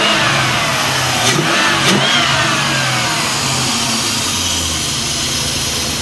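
A Jeep with a rebuilt engine, high flow muffler and cold air intake revs up loudly nearby, the engine rising in a couple of quick throttle blips before settling into a steady, rumbling idle.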